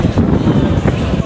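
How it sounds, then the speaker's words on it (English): Loud, blustery wind buffets the microphone with a low rumbling roar, close and continuous, over a faint murmur of voices, outdoors at a Hungarian festival in New Brunswick. "there's always a lot of wind in New"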